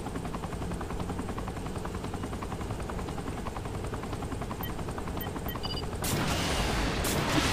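Helicopter rotors beating steadily through a Saints Row The Third air assault, a dense continuous thrum with bursts of gunfire layered in and a sudden loud blast near the end.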